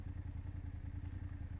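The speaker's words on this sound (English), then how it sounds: "If I let go of the gas, it's like the engine braking, as you can see." A BMW F800GS motorcycle engine braking after the throttle is released gives a low, close, steady rumble with a fast pulsing clatter.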